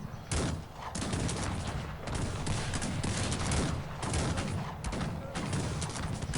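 Heavy, sustained musket and cannon gunfire crackles in dense bursts, loud and continuous with brief dips between volleys, battle noise with no talk over it, in the video game Cossacks 3.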